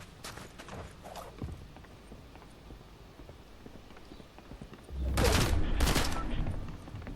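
Gunfire in Fortnite, scattered faint shots and clattering early on, then a loud dense burst of rapid firing near the end; no one talks during it.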